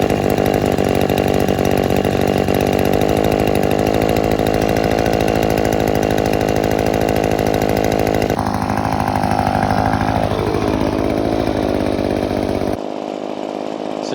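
A new, barely broken-in Echo PB-2520 leaf blower engine runs loud and close with a steady high buzzing drone, shifting pitch partway through before cutting off abruptly near the end.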